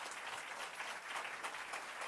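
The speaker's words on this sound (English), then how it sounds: "So a round of applause for our local elected officials as well." A crowd at an outdoor government celebration gives applause to local elected officials, a steady, even wash of clapping from many hands, moderately distant and continuous.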